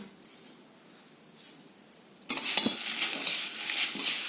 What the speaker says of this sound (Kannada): Now we are mixing both the varieties of red chilies to it.